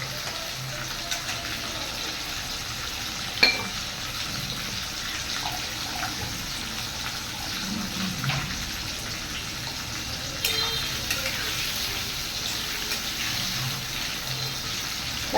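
Potatoes fry lightly in a pan with a continuous hiss and sizzle and occasional small clinks of a utensil, steady and close with no speech.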